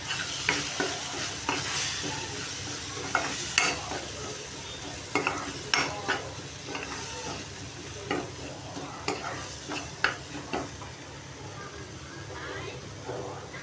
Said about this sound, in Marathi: त्याच्यामध्ये जे मसाले घेतलेले ते सगळे टाकते मी आणि चांगलं मिक्स करून घेते